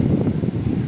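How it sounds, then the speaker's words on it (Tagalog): Low, blustery sea wind buffeting the microphone in uneven gusts, loud and close, with no voices. "Lakas lang yung hangin pero wala namang malalaking alon."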